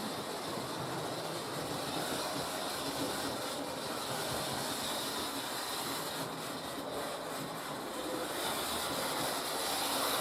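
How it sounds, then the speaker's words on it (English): A train passes in a steady rumbling hiss that holds for about ten seconds at moderate loudness, with a slight swell near the end. "I know you like to see trains passing."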